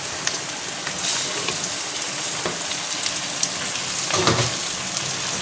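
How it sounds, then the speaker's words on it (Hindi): Bone-in mutton with spices frying in a pot for a Hyderabadi bhindi gosht salan: a dense, steady crackling sizzle with a couple of louder stirring surges, heard alone. "थोड़ी देर हम इसकी भुनाई करेंगे ताकि ये भी अपना रंग दिखा दे"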